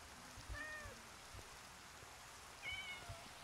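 Two soft cat meows, spaced a couple of seconds apart, come from a cat in the Minecraft video game over a steady hiss of rain.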